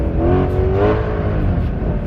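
A supercar engine revs hard while drifting on an ice circuit at close range, a loud sustained roar with a rising whine early on, steady throughout and no voices.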